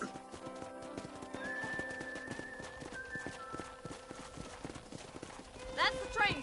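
Horse hooves clip-clop at a steady trot in the Western video game Red Dead Redemption, continuous and close, with a whinny and in-game voices talking over the hoofbeats.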